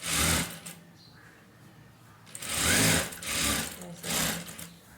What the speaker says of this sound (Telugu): ఇప్పుడు మళ్ళీ ఇంకో స్టిచ్ చేసుకున్నాను దీని మీద